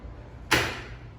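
A locked door in an apartment building's entrance and mail area gives a single sharp thud or click halfway through, then a fading rush of room noise, fairly quiet overall.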